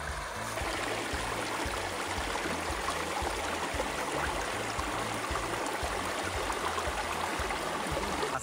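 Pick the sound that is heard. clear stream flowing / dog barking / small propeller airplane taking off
clear stream flowing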